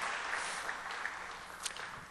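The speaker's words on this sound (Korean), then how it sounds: "박수로 환영하겠습니다." A church congregation claps to welcome newcomers during a Sunday service; broad, even applause from many people fills the space at a steady moderate level, slightly roomy, with no speech over it.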